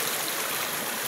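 Flowing river water at Laya River in Talisay City, Cebu, a steady rushing wash of running water, close and continuous with no voices.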